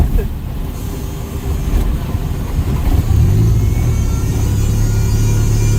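A turbo B18-swapped Honda engine drones loudly while driving, and about halfway through a rising tone shows it accelerating. The sound is close and continuous under cabin and road noise.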